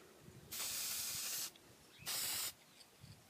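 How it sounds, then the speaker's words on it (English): Rust-Oleum metallic spray paint hissing from an aerosol can onto steel barn post caps: two close, steady bursts, the first about a second long and the second shorter, with quiet background between them. "and we're just going to spray it."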